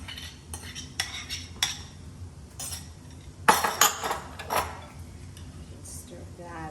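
A spoon stirs cooked chorizo sausage into a poblano pepper filling, giving close scraping and clinking of metal against the bowl in a few short strokes with quiet pauses, and a voice speaks faintly.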